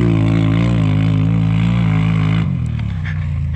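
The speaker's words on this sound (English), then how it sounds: "So I do love the sound of the HMF. Those pipes sound really," A Can-Am Renegade ATV fitted with HMF exhaust pipes runs at high revs in a loud, steady engine drone. The drone drops off abruptly toward the end.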